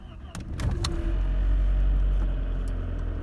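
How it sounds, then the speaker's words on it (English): An Audi A4 engine starts: a few sharp clicks and a starter whirr, then the engine catches and settles into a steady low idle rumble, heard close up. "I'm going to start the car and hope for the best."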